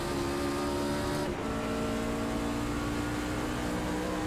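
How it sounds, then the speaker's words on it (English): Race truck at Gateway on a racing game track, engine revving hard after a downshift into third, a loud continuous high whine with a brief dip at the shift, then rising steadily as it climbs through the revs. "Downshift into 3rd. Get those revs up for the corner exit."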